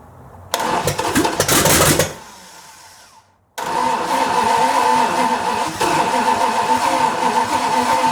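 A 1929 Chrysler engine fitted with an HEI distributor and new plug wires, with the carburetor just sitting loosely on top, cranks in a loud burst, cuts out, then catches and runs on in a steady, rough roar nearby.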